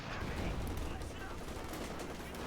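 Machine gun bursts and other gunfire in a Company of Heroes 2 battle, dense and continuous, layered with explosions and battle noise.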